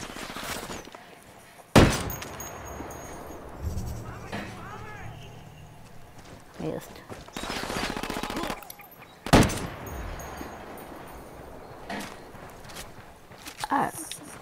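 Gunfire in the video game Ghost Recon Wildlands, with two loud sharp shots standing out among game ambience, footstep-like clatter and a few bursts of weapon noise, with people talking over it.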